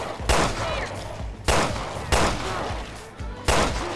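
Gunshots in Resident Evil Revelations 2, four loud sharp cracks spaced about a second apart, each trailing into a short echoing decay.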